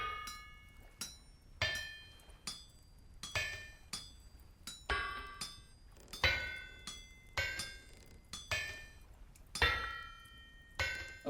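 Rhythmic hammer strikes on metal while smithing a helve hammer head in the video game Vintage Story, about a dozen ringing clangs spaced roughly a second apart, loud and alone.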